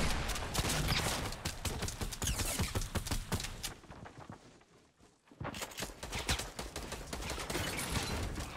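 Rapid bursts of gunfire in Fortnite Battle Royale crack out loud and dense, with a short lull midway before the shooting resumes, and players' voices mixed in.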